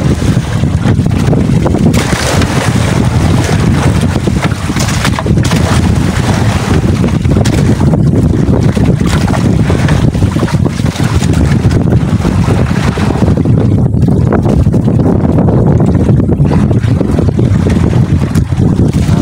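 Strong wind roars across the open sea while fishing from a small boat, a loud, constant buffeting rush with wave wash underneath and no speech.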